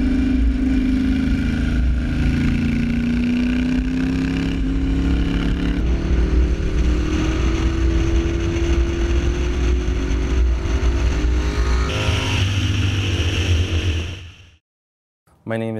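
A 1982 Yamaha Virago XV750 cafe racer motorcycle engine drones loudly and steadily, its pitch climbing slowly as revs rise, then shifting up before cutting off abruptly near the end.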